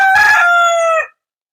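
A rooster at a chicken breeder's flock crows once, close and loud, a harsh opening note stretching into a long steady call that cuts off sharply.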